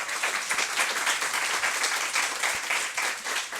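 Steady applause from a town hall audience, many hands clapping in a dense, even patter that stays moderately loud throughout with no voices over it.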